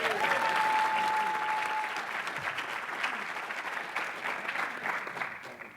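An audience at a recovery-community convention breaks into loud, full applause that gradually thins and softens over about six seconds, a brief tone sounding near the start.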